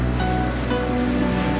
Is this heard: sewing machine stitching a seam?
no